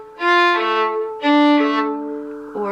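Fiddle playing the opening measure of the reel Tam Lin, rocking back and forth between strings: bowed notes alternating in two phrases, bright and close, played solo without talk.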